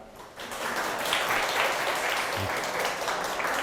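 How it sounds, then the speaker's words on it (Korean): A lecture audience at a public science talk in Daegu breaks into applause, swelling quickly from a faint start into steady, dense clapping from a roomful of people that holds to the end. "큰 박수 부탁드립니다."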